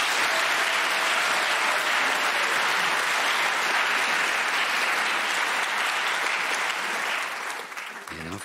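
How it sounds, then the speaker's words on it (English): A large studio theatre audience at the Brain of Britain 2022 quiz final claps steadily and loudly for several seconds, a dense wash of applause that fades out toward the end. "you earn this true champion's round of applause"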